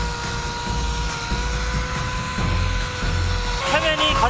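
Air-extraction sanding machine smoothing a wooden furniture board, giving a steady whirring hum with rhythmic surges as it passes over the surface, under continuous narration.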